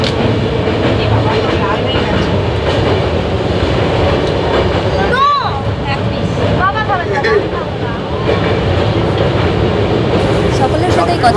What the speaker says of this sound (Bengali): সকলের সাথেই কথা বলতে বলতে আমাদের ট্রেনটা পার হয়ে গেল গঙ্গা নদী